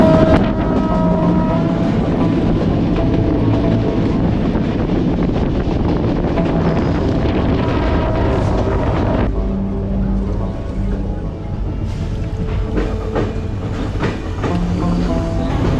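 A passenger train travels on rails between Jessore and Sirajganj, giving a loud, steady rumble with wind buffeting the microphone. The tone shifts partway through, and faint rhythmic clatter runs beneath it with no talking.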